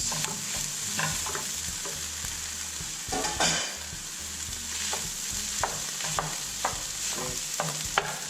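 Day-old white rice sizzles in a hot pan while being stir-fried for kimchi fried rice, with steady frying hiss broken by repeated scraping stirs and clacks, close and with no talk.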